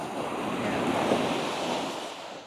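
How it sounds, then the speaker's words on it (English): Ocean surf at a beach in La Union, Philippines, rolling steadily for a couple of seconds as a continuous broad wash, moderately loud and close, with some wind on the microphone and no talk. "now we're watching the waves"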